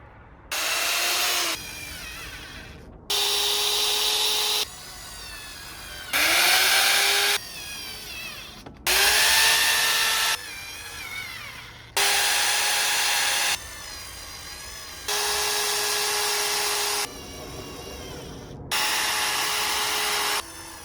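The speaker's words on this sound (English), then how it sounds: "Just gonna drill these into place." A power drill driving screws into wood for a van bed frame whirs in repeated short bursts, about seven runs of a second or two each with brief pauses between, loud and close.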